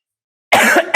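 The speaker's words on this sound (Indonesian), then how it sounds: "sambil batuk-batuk ya" A lecturer coughs several times at close range, a harsh burst of rough coughing after silence, then another short cough at the end, with no speech.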